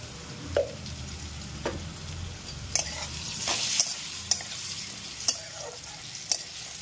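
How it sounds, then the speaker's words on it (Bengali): Potatoes with turmeric and a pinch of salt fry in a pan, a faint low sizzle beneath a series of distinct spoon clacks and scrapes as they are stirred, roughly one every second, with no voices. "একটু ভাজা হয়ে গেলে তারপরে এগুলোকে, আলুগুলোকে একটা বাসনে তুলে রেখে নেব"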